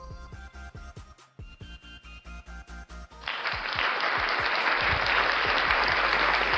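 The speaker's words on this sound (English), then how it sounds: "Thank you for that wild round of applause from the fake in-studio audience" Canned applause from a fake studio audience on a live comedy news stream swells suddenly into a loud, dense, sustained wash of clapping after a stretch of rhythmic background music.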